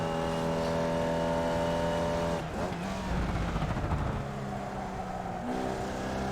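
A race car engine in a racing video game holds a steady, loud, buzzing pitch, then drops sharply on a gear change, rumbles and climbs again, without speech.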